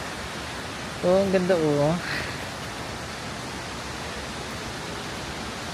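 Broad, steady rush of a waterfall in Wulai, Taiwan fills the whole stretch, with a short excited voice cutting in near the start.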